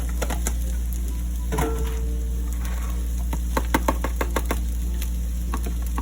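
Bagoong rice being stirred and mixed in a pan, a spatula scraping and clacking in irregular bursts over a low steady hum, with a faint sizzle underneath.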